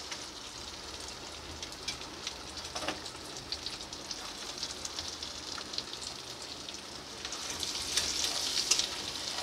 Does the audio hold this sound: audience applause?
no